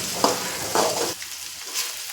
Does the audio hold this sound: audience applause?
no